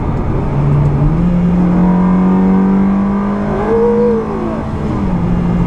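A Ferrari 360 engine revs close by, its pitch climbing and dropping through several throttle blips, loud and unbroken, with no voices.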